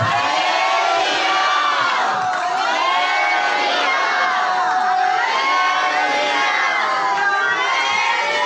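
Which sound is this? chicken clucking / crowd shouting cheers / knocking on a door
crowd shouting cheers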